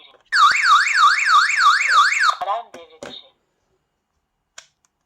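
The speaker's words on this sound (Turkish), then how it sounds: "Devrede olmasa dahi bunu söküp götürmeye çalıştığı anda sabotaj alarmı Ötüyor." A loud electronic tamper alarm on a wireless smart home security system warbles rapidly up and down for about two seconds, then cuts off, followed by a few faint beeps and clicks.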